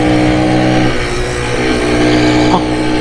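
A Honda Cub motorcycle with a port-polished 75cc engine pulls along steadily at speed, its engine note droning loud and continuous with a brief rise in pitch, while wind rushes past throughout.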